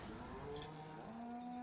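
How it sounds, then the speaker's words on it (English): Cattle moo in the Farming Simulator video game, one long, low, drawn-out moo and a second rising call heard quietly and alone over a soft background hum. "Cows are being noisy today."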